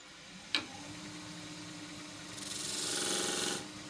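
A 3/4 inch skew chisel cutting an endgrain bowl on a lathe: a sharp tap at the start, then a quiet spinning hum that swells into a rasping, hissing cut lasting about a second before stopping.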